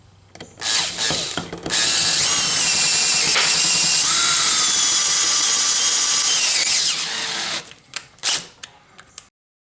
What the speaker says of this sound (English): I'm just going to drill and tap the ends of this, put in a 5/16 18 bolt